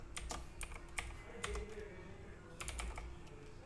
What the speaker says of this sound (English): So I'll just type in a password.